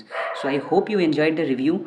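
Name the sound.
dog barking at night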